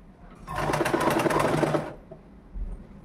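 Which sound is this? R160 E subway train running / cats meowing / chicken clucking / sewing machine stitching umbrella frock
sewing machine stitching umbrella frock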